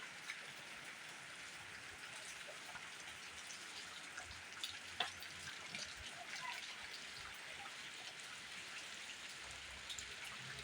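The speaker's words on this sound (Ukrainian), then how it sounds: "Крапає дощ." Light rain falls in a home garden beside a peach tree after summer heat, a steady soft patter of drops on surfaces, close and even throughout with no voices.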